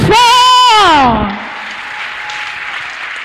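A church congregation cheers for Jesus: a loud, drawn-out shout slides downward, then settles into sustained crowd applause and noise.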